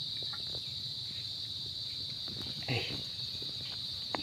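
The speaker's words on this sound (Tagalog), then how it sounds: "naririnig nyo yung mga huni ng kuliglig" A dense, steady high chorus of crickets chirping continuously, with faint scattered rustles and a brief bump in the background.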